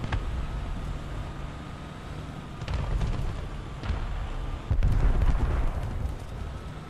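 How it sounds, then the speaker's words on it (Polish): An explosion in War Thunder rumbles with deep booming bursts over a steady noisy background, swelling louder toward the end. "Ale ten wybuch był piękny."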